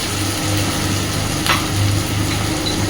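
Crushed garlic hits hot oil in a pan for a spicy tilapia fish curry, producing a loud, steady hiss of sizzling with one brief sharper crackle in the middle and no talking.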